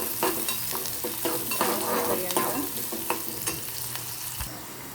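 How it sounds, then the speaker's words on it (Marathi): Onion sautés in a pan with a steady close sizzle, broken by frequent scraping and tapping strokes as it is stirred, and no talk over it. "कांदा चांगला परतून घ्यायचा आहे"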